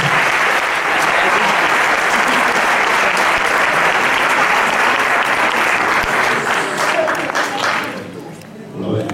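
Dense audience applause rises to a loud, sustained wash of clapping for a man and his colleagues, then thins and fades near the end.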